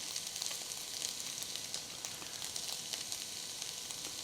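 Cauliflower stir fry cooking over a high flame, giving a steady, close crackling sizzle with scattered sharp pops and no voices.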